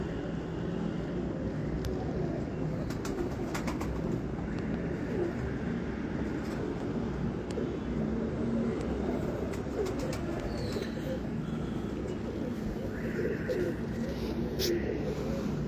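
Pet pigeons in a Pakistani loft coo softly in the background under a steady blanket of ambient noise, while someone talks over them throughout.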